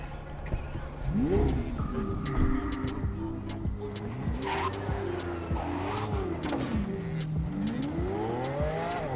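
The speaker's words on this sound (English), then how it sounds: "Yep, just stealing someone's car at the afterlife." Stolen car driven in Cyberpunk 2077, with the engine revving up and down in repeated swooping sweeps, tires squealing and the motor droning steadily and close, with someone talking over it.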